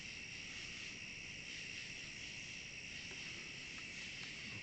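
Steady, dense chirping of crickets fills the air, a continuous high trill with no voices, sounding like an outdoor night chorus.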